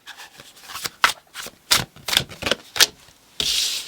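Tarot cards shuffled by hand in a series of quick papery riffles and slaps, close and fairly loud, ending in a longer continuous rustle.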